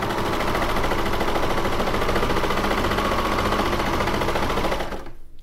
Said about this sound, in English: I have to stitch on the bottom edge.